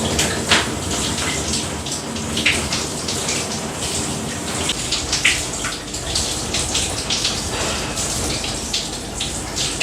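A 12-inch Hibbent rainfall shower head sprays water in a steady, dense hiss that runs unbroken and fairly loud throughout, with no voices.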